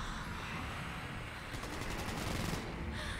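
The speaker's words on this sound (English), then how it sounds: "Why is there gunshots?" Rapid gunfire in the video game Cyberpunk 2077 rattles faintly and steadily over a dense wash of noise, without any voices.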